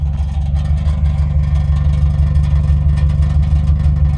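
Subaru WRX exhaust idling loudly up close, a steady low engine drone with a buzzy tin-can rattle pulsing through it, with no talking.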